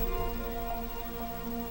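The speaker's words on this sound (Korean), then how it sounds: "뜨겁게 달아오른 지면을 식혀주는 가을비가 내리기 시작했습니다" Autumn rain falls on hot ground in a steady, faint patter, with a low tonal music bed running underneath.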